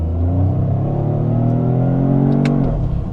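A 2025 Toyota GR Corolla engine revs hard in manual mode toward redline, a loud, close, steady rising roar with a shift blip near the end.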